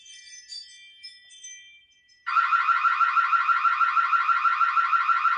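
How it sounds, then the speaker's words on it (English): Faint tinkling and clicks, then a loud, piercing personal safety alarm abruptly starts and wails in a rapid, pulsing warble until the end. "Oh, it's got an alarm on it, too, to scare the people"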